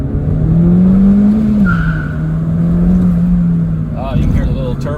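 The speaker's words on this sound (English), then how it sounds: "You can hear the little turbo spool up and then the wastegate." A 2012 MINI Cooper Coupe S drives at speed as its small turbo spools with a rising whistle and the wastegate releases with a brief fluttering chuff, all over a loud steady engine and road drone.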